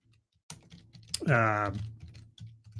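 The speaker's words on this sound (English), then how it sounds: "I'm typing too loud." Computer keyboard typing sounds as scattered close clicks while a person talks over them.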